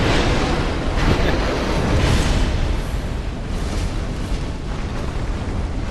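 The Smelter Demon's roaring fire bursts in Dark Souls II, a loud, dense wall of rumbling flame and blasts that swells and churns continuously without a break.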